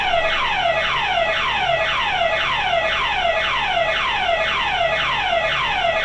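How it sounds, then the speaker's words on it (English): A house burglar alarm wails without stopping, its electronic tone sweeping downward over and over in a fast, even cycle, loud and steady the whole way through with nothing else heard over it. "My house alarm's going off."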